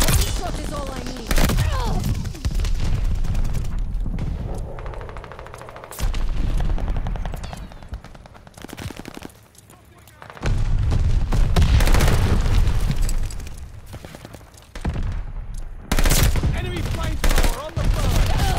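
Bursts of STG44 assault rifle fire in Call of Duty: Vanguard, loud and close, with sustained automatic strings separated by short pauses and a brief quieter gap.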